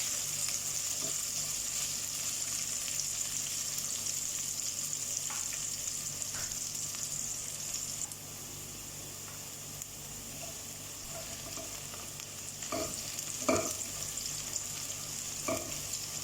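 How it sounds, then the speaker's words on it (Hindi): Onions sizzle steadily in a pan for a pulao, with a soft continuous frying hiss and occasional scraping clicks of a stirring spoon, close and moderately quiet, no talking. "ओनियन को सॉफ्ट होने तक हमें चलाते रहना है।"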